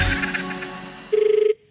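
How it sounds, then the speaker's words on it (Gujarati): A telephone rings in a comedic radio segment, a short electronic trill of rapid pulses following a fading chime-like tone, loud and close with no speech. "ફોન આવ્યો"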